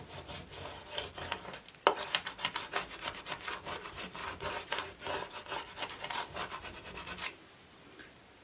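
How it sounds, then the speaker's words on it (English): Iron-on vinyl is burnished down onto a surface by hand, a rapid series of close, dry rubbing scrapes back and forth that stop near the end. "Burnishing it down really well."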